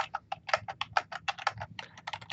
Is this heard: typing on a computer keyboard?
yes